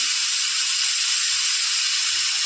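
A pressure cooker vents steam while cooking potatoes and figs, making a steady, loud, close hiss that runs unbroken throughout, with no speech.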